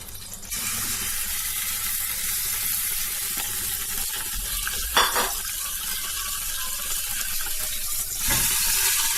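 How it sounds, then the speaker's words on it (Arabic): Pieces of meat fry in ghee in a cooking pot, giving a steady close sizzle with occasional louder bursts of spattering as the meat settles and is moved. "دوك انا هنا نخليه يتحمر مليح من كاع لي كوطي"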